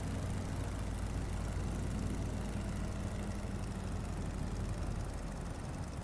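A Boeing Stearman biplane's radial engine in Microsoft Flight Simulator 2020 hums in a low, continuous rumble with power applied during a descent, steady and moderately quiet with no talk.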